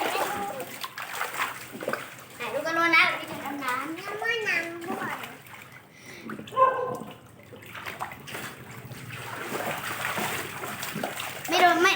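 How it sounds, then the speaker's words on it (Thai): Children splash and play in water while diving, with loud bursts of splashing mixed with excited kids' voices and talk throughout. "อันนี้จะมาดำน้ำ"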